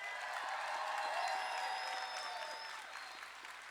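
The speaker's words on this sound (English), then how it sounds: "Let's give them both a round of applause." Steady applause from a large audience at a Los Angeles City College commencement ceremony, a dense even patter of many hands filling the hall throughout, with no talk over it.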